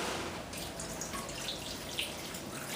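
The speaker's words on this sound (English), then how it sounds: "I'm going to add a little bit more water to it" Water trickles and drips into thick oxtail gravy in a pot, a faint, steady liquid sound with no voices.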